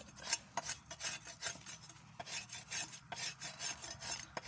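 Coconut being peeled and scraped by hand at a farm home, a close, steady rasping and rubbing that repeats in uneven strokes with no talking.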